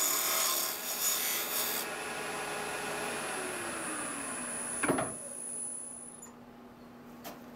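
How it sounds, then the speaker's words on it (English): Parting tool cutting into wood on a lathe while turning a tool handle, a continuous close rasping hiss with a faint whine that drops off, then a quieter hum and a brief knock. "parting tool, and leave a little shoulder for the chuck to be supported again"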